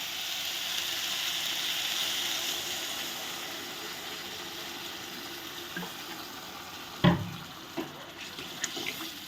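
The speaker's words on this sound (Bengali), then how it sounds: "এবার আমি আলু আর কলাটা সেদ্ধ হওয়ার মতো পরিমাণ মতো জল এর মধ্যে অ্যাড করব।" Water pours steadily into a pan of potatoes and plantains, a soft continuous splashing rush that fades gradually, followed by a few sharp clanks and knocks of the pan or utensils near the end.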